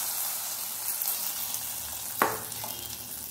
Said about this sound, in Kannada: ಒಗ್ಗರಣೆಯನ್ನು ಹುಳಿಗೆ ಹಾಕ್ಕೊಳ್ತಾ ಇದ್ದೇನೆ